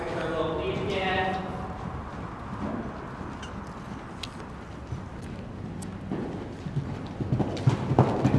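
Hooves clip-clop steadily on a hard surface as a horse walks, with people talking over the footsteps.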